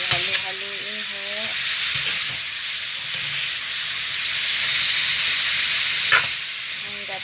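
Food sizzles and fries steadily in a home kitchen pan while being stirred, with intermittent scraping and clinking of the utensil and a brief voice at the start.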